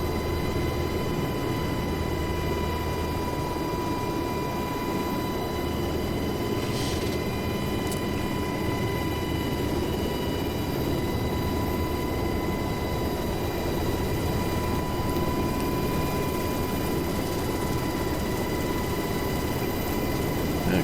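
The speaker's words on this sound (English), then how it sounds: "throttle back, shut her down." An aircraft engine runs steadily before shutdown, giving a constant broadband roar with fixed high whining tones that holds unchanged throughout, with no voices over it.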